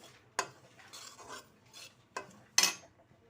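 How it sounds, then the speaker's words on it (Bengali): Coarse semolina roasting dry in a wok over low-medium heat, stirred with a utensil in a few sharp scraping strokes with quieter rustling between them, close and with no talking. "যতক্ষণ না লাল হয়ে ভাজা হচ্ছে ততক্ষণ নেড়ে যেতে হবে সুজিটাকে"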